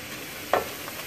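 Potatoes fry in a pan for southern country fried potatoes, with a steady sizzle and a single short scrape of a spoon stirring them partway through.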